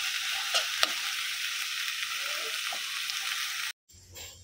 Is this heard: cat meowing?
no